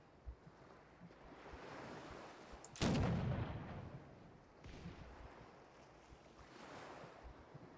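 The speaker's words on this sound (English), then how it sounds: "It's been a while since I shot these cannons." A single heavy ship's cannon boom from a video game, with a rumbling tail, set against quiet wind-like ambience and a softer distant swell later on.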